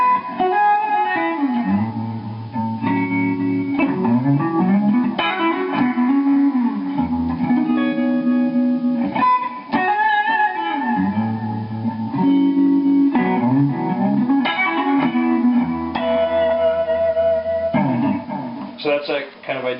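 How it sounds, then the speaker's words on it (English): Clean electric guitar plays a slow sequence of shimmering, slightly wavering chords with a lush chorus sheen, each chord ringing out fully before the next. "Put a little chorus on."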